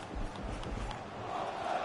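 A stadium crowd in the FIFA 20 football game roars in a steady mass of cheering and shouting at moderate level, with a few low thumps early on.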